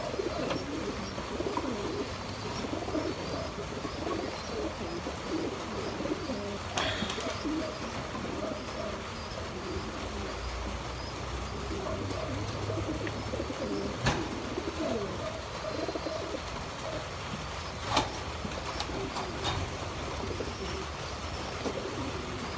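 Pigeons at a breeder's loft coo softly and repeatedly in low, rolling calls, with occasional chirps and faint clicks over a steady background.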